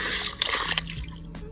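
Water is poured into a jarrarium jar to rinse the sand inside. It gives a brief splashing, trickling pour with some dripping that tapers off.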